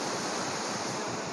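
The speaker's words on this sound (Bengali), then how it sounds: "এই যে ঝর্ণাটা নেমে যাচ্ছে" A waterfall at Fish Point in Mainpat pours down in a steady, close, broadband rush of falling water that holds an even level throughout, with no voices.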